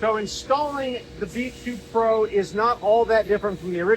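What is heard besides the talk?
None of the usual background noises is heard.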